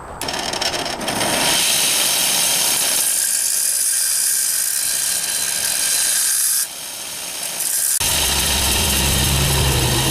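A power tool scores a cut line into a steel rasp file, a loud, steady grinding whine that holds for several seconds, changes pitch partway through, drops briefly, then resumes.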